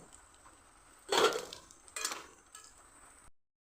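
Lentil fritters lifted out of a frying pan, a few close metallic clinks and scrapes of a utensil against the pan over a faint background hiss, then it cuts off.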